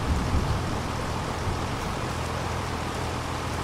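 Steady rain falls in the farming game Farming Simulator 25, a dense continuous hiss that stays loud and even throughout with no voices.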